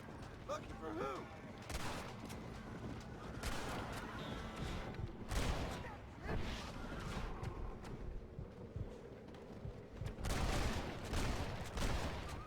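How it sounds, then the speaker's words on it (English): Repeated gunshots from Red Dead Redemption ring out in scattered loud cracks over steady background ambience and music, with a short voice early on and a dense cluster of shots near the end. "Probably didn't need to shoot him that much."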